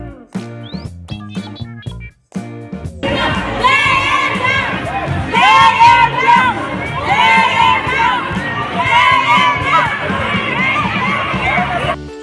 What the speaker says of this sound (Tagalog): ang lakas ng sigawan ng fans